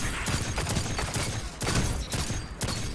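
Rapid bursts of automatic gunfire from a video game firearm, dense overlapping shots with brief pauses between volleys, loud and close throughout.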